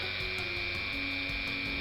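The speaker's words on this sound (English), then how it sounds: "Here I'm drilling out the post" A small drill bit, 1.8 mm, bores out the post of a Matchbox racing miniature car, giving a steady close-up whir with a thin sustained whine and faint scraping, continuous throughout and free of talk.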